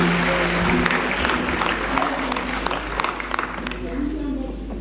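An audience applauds for Abdoulaye Sissoko and his music group at the Calebasse d'or 2023 event in Senegal, with moderate, scattered clapping mixed with crowd murmur and a steady low hum underneath.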